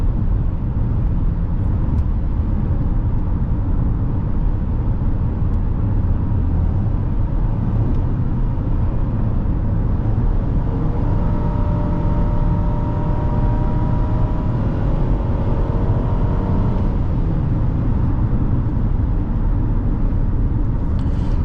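A 2017 Nissan Rogue SV accelerates while driving, with a steady cabin drone and road rumble and a clear rising engine tone in the middle before it settles, and no talk.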